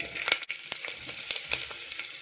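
Dried red chillies, garlic cloves and small shallots sizzle and crackle in hot groundnut oil, a steady close frying hiss broken by a few sharp spits and pops, with no voices.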